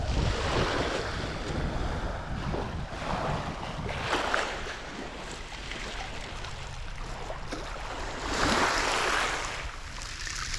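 Wind and surf on a sea shore while bait fishing for sandeels on a hot day, steady broadband rush with gusty wind buffeting the microphone and swelling wave washes, no speech.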